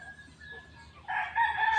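A backyard rooster crows loudly and close by, the call swelling in after a quieter stretch of faint clucking and ambient farmyard sound.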